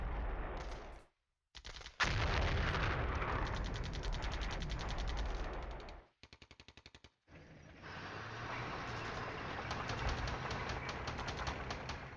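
Gunfire in the Flashpoint Campaigns: Southern Storm wargame, loud rattling bursts with mechanical clattering that cut in and out, including a short choppy stretch mid-way before a steady rattle resumes, with no voices.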